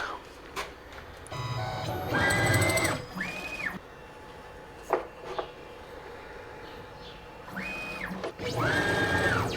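Onefinity Journeyman CNC router cutting a roughing pass in curly maple: a steady mechanical whirr with rising and falling stepper-motor whines as the head moves, close and moderately loud, with no talk.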